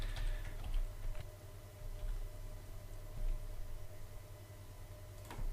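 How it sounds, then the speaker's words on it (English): Soft computer keyboard typing, a few light scattered keystrokes over a steady low hum, faint and close. "And we'll try typing something in"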